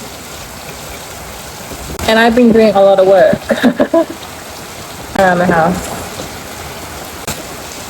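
Steady rain falls outdoors in Samoa, a constant soft hiss in the background while someone talks over it in short stretches.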